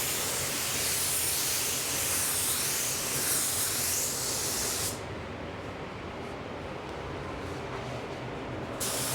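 A spray gun applies a blend coat to a car bumper, producing a steady, loud airy hiss for about five seconds that then drops to a quieter, duller hiss until the end, with no talk.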